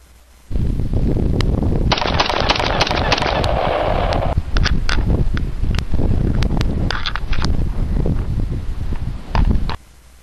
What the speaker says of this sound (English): AR-15 wins. Firing.